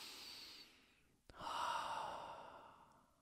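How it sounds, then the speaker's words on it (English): A single deep breath taken near the microphone during a calm guided moment, a soft inhale followed by a longer, audible exhale, with no talking over it. "just to take a moment to get present by taking a deep breath"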